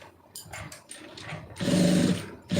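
An overlock sewing machine stitches cloth in short buzzing bursts, starting with a few quick stutters and building into a longer, louder steady run before it briefly stops and starts again, close up and with no talking.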